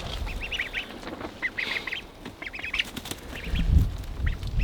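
Ducks honking and quacking in their pen, repeated bursts of calls close by with some shuffling and knocking near the end, no speech.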